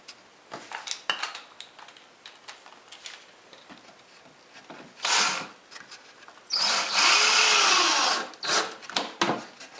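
A power drill drives screws into an Adirondack chair bracket, with several short whirring bursts, clattering handling knocks, and one long sustained run near the end, close and fairly loud.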